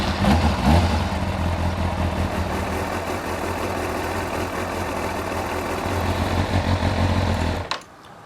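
Motorcycle engine idling steadily through a five-minute warm-up before an oil drain and engine flush, a loud, even low rumble that runs unbroken for most of the stretch, then cuts off near the end.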